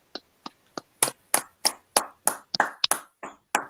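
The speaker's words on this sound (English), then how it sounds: "Clap it up." Hand claps ring out alone, about a dozen sharp separate strikes, sparse at first and then coming faster in an uneven patter, close and clear.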